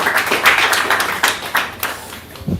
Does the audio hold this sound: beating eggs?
no